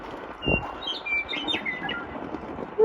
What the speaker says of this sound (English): I like that bird song.